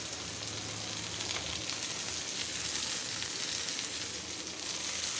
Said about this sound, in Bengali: এখন এই জায়গাতে এই পেঁয়াজ আর এই রসুনটা দিয়ে দিব।